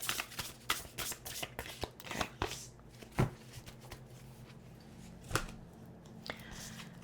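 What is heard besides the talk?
shuffling a thick deck of tarot cards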